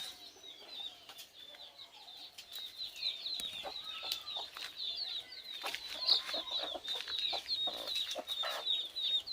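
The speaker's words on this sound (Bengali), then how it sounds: "আর এই যে এটা মুরগি আমার চার পাঁচ দিন আগে এটা ডিম নিয়ে ফুটছে এই মুরগিটা" A domestic hen that hatched a clutch of eggs a few days ago clucks softly and steadily, alongside high chick peeps and occasional wing flaps, close by with no talking.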